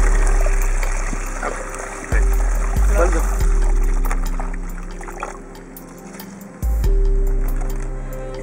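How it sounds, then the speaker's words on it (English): Roughly four liters of water poured into the middle of a tree planting box in soil, a steady trickle and splash with thumps and handling knocks, while someone talks over it. "You add about 4 liters of water in the middle of the box."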